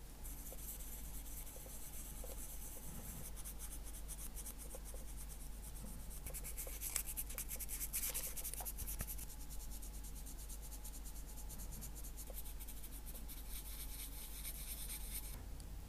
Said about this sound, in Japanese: 乾いたのでペーパーをかけます。